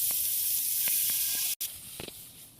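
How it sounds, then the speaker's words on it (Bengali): Slices of bread toasting in butter in a pan give a steady, close sizzle. It breaks off briefly partway through, then returns more softly with a few light scraping clicks. "আর বাটার দিয়ে ব্রেডগুলো সেঁকবো।"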